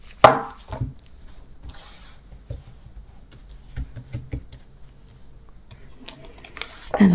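Tarot cards being drawn and laid out for a nine-card spread, heard as scattered taps, soft rustles and occasional sharper slaps on a table, mostly close and fairly quiet.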